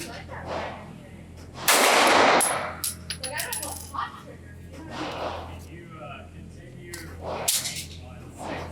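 Staccato P 2011 pistol, ported and Cerakoted, fired at an outdoor range: a loud close burst of gunfire near the two-second mark, then sharper scattered reports and clicks, with another crack late on against background noise.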